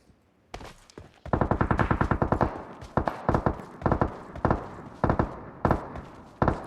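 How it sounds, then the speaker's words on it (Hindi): Gunfire in PUBG at Pochinki: a single shot, then a fast automatic burst, followed by repeated short volleys of sharp, loud reports spaced about a second apart. "मैं इधर से गुजर ही रहा था कि मेरे को फिर से शॉट्स आते हैं"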